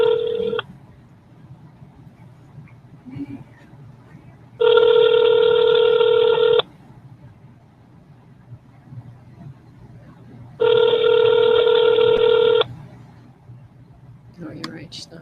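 Outgoing telephone call ringing back, two long electronic ring tones spaced several seconds apart, clear and close over quiet room tone with a brief voice between them.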